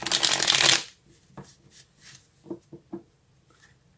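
A deck of tarot cards shuffled up close: a loud riffling burst for nearly a second, then quieter taps, slides and soft card handling in an otherwise quiet room.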